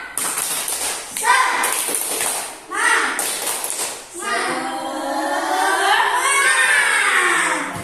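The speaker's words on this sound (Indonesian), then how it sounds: "Tepuk semangat." Young pupils in a classroom perform a rhythmic clapping chant before a lesson, sharp claps in patterned bursts mixed with chanted voices, then the group carries on in sustained sung chanting.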